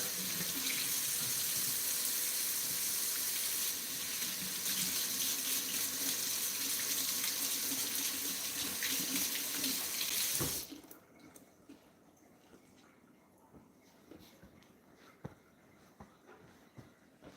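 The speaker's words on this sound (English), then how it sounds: "I'm going to just wash my hands here." A kitchen tap runs steadily into a sink while hands are washed, a close, loud hiss of water for about ten seconds before it shuts off, leaving quiet room sound with small handling noises.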